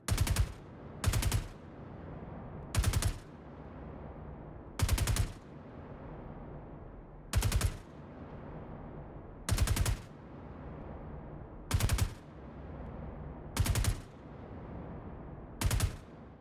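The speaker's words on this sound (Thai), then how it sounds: "เดี๋ยวผมจะทดสอบกับปืนยอดนิยมนั่นก็คือ FS9 ก่อนแต่งปืนกลุ่มกระสุนจะเป็นแบบนี้นะครับ" An FS9 light machine gun in the video game Star Citizen fires about nine short, loud, evenly spaced bursts, with quieter pauses between them and no talking.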